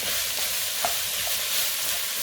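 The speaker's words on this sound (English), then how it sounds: "I'm going to add those lentils in there" Lentils go into a hot pan of lemon lentil soup base, giving a steady broadband sizzle with faint stirring clicks and one or two soft knocks, close and even throughout.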